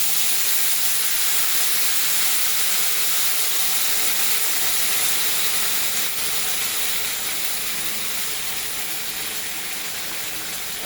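A blended spice paste, with curry leaves already in the pan, hits hot oil on a home stove and sizzles in a loud, continuous, close hiss for about ten seconds. No voices are heard.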